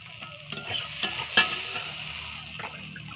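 Masala being sautéed for fish curry sizzles softly in a pan while a spoon stirs it, with a few sharp scraping knocks against the metal over a low frying hiss.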